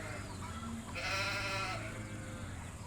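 Sheep bleat in the farming video game Farming Simulator 17, one prominent bleat in the middle over a continuous ambient game hum, fairly close and clear.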